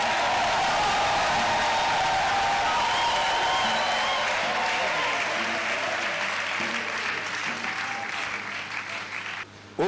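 Worshippers in a deliverance ministry church keep up loud, sustained clapping with crowd voices and cheers, the applause tapering off slightly toward the end before a sharp cutoff.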